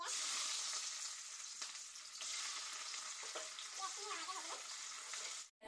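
Ingredients sizzling in hot oil for a village-style local chicken curry, a bright continuous frying hiss with a few stirring scrapes, close and loud, trailing off abruptly at the end.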